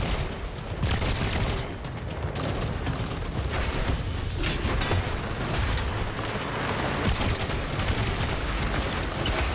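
Airship-mounted guns firing in the video game Trailmakers: a dense, continuous barrage of rapid gunfire and booming blasts, loud and unbroken throughout with no voices.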